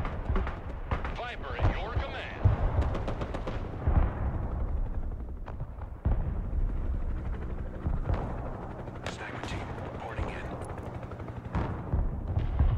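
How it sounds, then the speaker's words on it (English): Artillery and gunfire in the video game Broken Arrow: repeated heavy booms and cracks over dense, continuous battle noise, with people talking over the action. "Oh, artillery."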